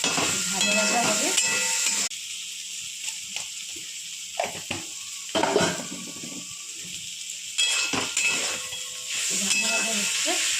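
Vegetables such as flat beans and eggplant sizzle and hiss steadily in a pan with turmeric and sugar, with occasional stirring scrapes and brief quieter gaps.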